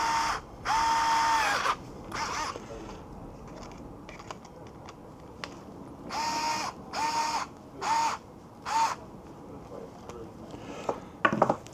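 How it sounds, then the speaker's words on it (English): An electric screwdriver drives screws into a Yokomo Rookie Speed RS 2.0 touring car kit, giving several separate whirring bursts of about a second each, close and fairly loud, with small clicks and handling noises between them. "And I'm now going to use the electric screwdriver."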